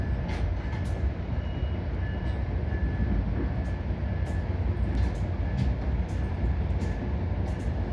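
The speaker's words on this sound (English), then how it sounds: "this right here is the terminus of the auto train." Auto Train passenger train at its terminus, heard as a steady, dense low rumble that holds at even loudness throughout, with a few faint scattered clicks and metallic ticks on top and no talking.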